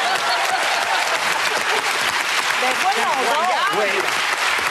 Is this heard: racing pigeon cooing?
no